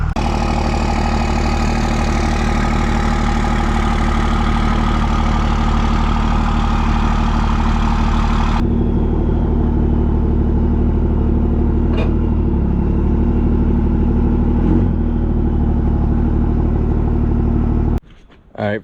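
A 1993 West Coast truck's engine idles with a steady low rumble, loud and close, then the tone drops partway through and runs on more quietly before cutting off near the end, with brief talk over it.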